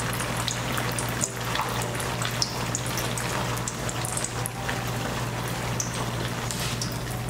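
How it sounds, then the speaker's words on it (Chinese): Tofu pan-frying in a shallow layer of oil, turned with chopsticks, giving an even, continuous crackle and bubbling fizz at close range with no talk. "翻面以后再炸3分钟，一样哦，用筷子拨动豆腐哦，"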